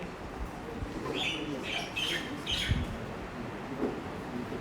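A bird calls several times in short chirping bursts over a noisy, murmuring background, moderately near, with a softer coo-like note toward the end.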